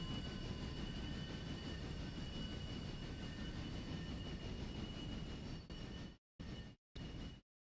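Train wheels screech around a tight curve in the Railroader game, set in the Appalachians, a sustained high squeal over the rumbling rolling stock that then cuts out in a few short bursts.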